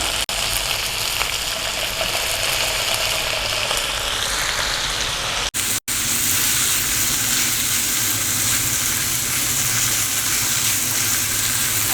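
Water hits a hot pan of frying chilli fish, setting off loud, continuous sizzling that hisses steadily, with a brief cut partway through.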